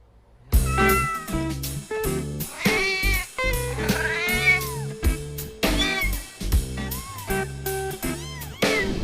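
Repeated cat meows from a pet cat in a World Cat Day news report, rising and falling cries set over a steady, rhythmic music bed.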